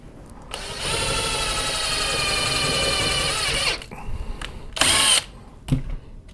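A power drill drives a 3/4 sheet metal self-tapping screw into a Daisy rail on an Umarex Marlin, whining steadily for about three seconds, then stopping, followed by a few short clicks and a brief second burst nearby.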